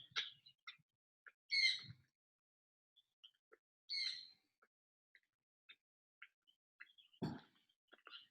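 Pet birds squawking out in a front yard by a delta waterway: two loud, raspy calls a couple of seconds apart, then a broader burst near the end, with faint scattered chirps and ticks between them and no talking.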